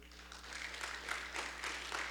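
Church congregation applauding together in a welcome, a faint, steady patter of many hands clapping at a distance, with a low hum underneath.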